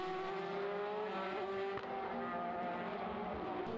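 Formula BOSS single-seater racing cars circulating at Mondello circuit in Ireland, a steady loud engine drone with strong harmonic whine held throughout, one brief dip near the middle, no talk.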